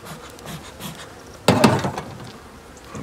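Honeybees buzz during a February hive inspection, a steady low hum that swells into a louder, closer burst midway before settling back to a faint drone.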